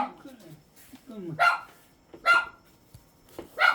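A dog at a remote mountain home barks sharply three times at roughly one-second intervals, loud and close, while a voice is heard beforehand and between the barks.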